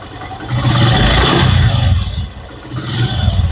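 A cold TVS motorcycle engine runs steadily at close range, a fast light ticking riding over the continuous mid-pitched engine hum with slight swells in loudness.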